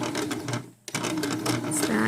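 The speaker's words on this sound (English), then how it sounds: "So now I'm going to take it to my sewing machine" A sewing machine stitches a seam along a corset busk, its rapid mechanical chatter running in bursts with a brief pause near the start before resuming, close and clear.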